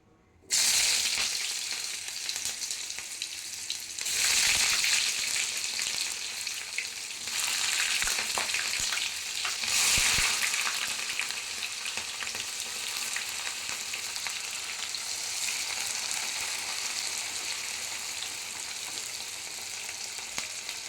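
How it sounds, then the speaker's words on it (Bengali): Sliced onions fry in hot oil in a pan for browning, giving a loud, continuous sizzle close by with occasional stirring surges, no voices. "এই জন্য প্যানে তেল বসিয়ে দিয়েছি এবার পেঁয়াজগুলো দিয়ে দেবো"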